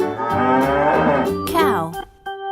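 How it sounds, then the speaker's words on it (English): A single loud, drawn-out cow moo with a rising then falling tone, close and clear, ending in a short trailing grunt. "Cow."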